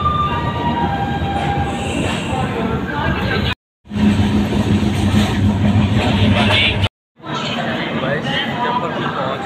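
A passenger train travelling fast on rails near Samastipur Junction, a loud continuous rumble of wheels and carriage noise with rhythmic clatter, cut by two brief gaps, with no voices.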